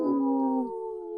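A person imitates a wolf howl on a full moon night during an online group call, a single sustained wavering howl that starts strong and slowly fades over about a second, close and clear.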